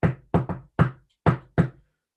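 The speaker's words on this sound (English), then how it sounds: "They went and knocked on the rabbi's door." Six sharp knocks land on a door in an uneven pattern, two quick pairs and then single raps, each crisp and close with silence between.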